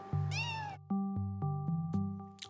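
A newborn kitten mews repeatedly, a close, high, thin cry repeated in a quick uneven run of short calls, with no voices.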